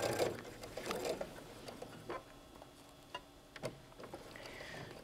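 Home sewing machine backstitching a seam on a small doll-sized hoodie, heard as a short burst of quiet stitching followed by a few faint, isolated mechanical ticks and clicks, with no talking.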